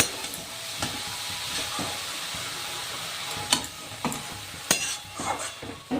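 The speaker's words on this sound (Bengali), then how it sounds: "এবার এইটুকু নাড়তে থাকবো" Grated carrot for gajar halwa being stirred in a pan with milk, a steady soft sizzle with repeated scraping strokes of a spoon against the metal, close and continuous.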